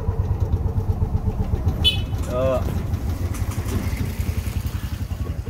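A tuktuk tricycle engine putters and revs unevenly nearby, throttle rising and falling with a brief high squeal, while people talk over it.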